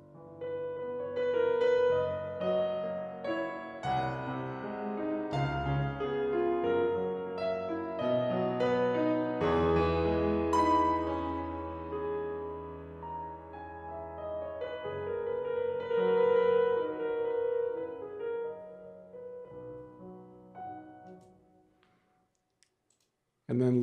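A VSL Yamaha CFX Synchron sampled grand piano plays a flowing passage through its ambience room mic mix, the sustained chords clear and roomy with a soft reverberant tail. It fades out near the end, followed by a brief click.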